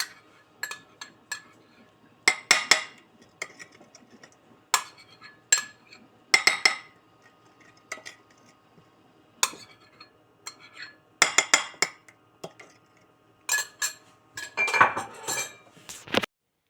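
Metal cutlery clinks and scrapes against a plate and bowl while food is mixed and spread, a series of sharp, irregular taps in small bursts, close and alone with quiet gaps between.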